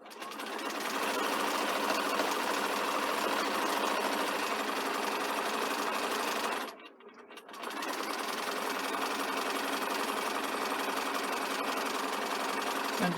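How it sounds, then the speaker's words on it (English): A sewing machine stitching down a fabric front band hem runs in a steady, close mechanical whir, stopping briefly midway before resuming to the end. "I'm just going to sew right down to the bottom and back stitch."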